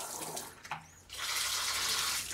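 Water runs from a newly installed faucet: a short burst and a squeak, then a steady, loud hissing flow, close by with no talking.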